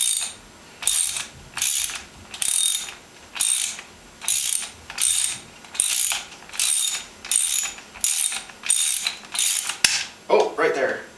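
A ratchet wrench unscrews the aluminium-threaded fork cap on a Honda Shadow Ace motorcycle. It gives about a dozen loud, close bursts of rapid clicking in a steady back-and-forth rhythm, and a brief clatter comes at the end.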